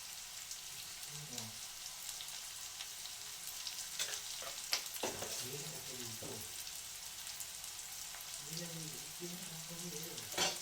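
Onions frying with salt in a pan on a green chilli chicken dish, a steady broadband sizzle throughout with a few sharp stirring clicks and faint background voices.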